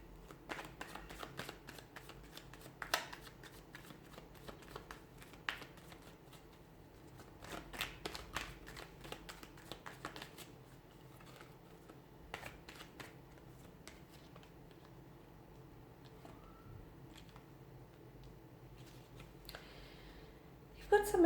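Tarot cards being shuffled by hand, a soft continuous riffle with crisp flicking snaps as cards slip out, close and quiet, with a voice talking intermittently over it.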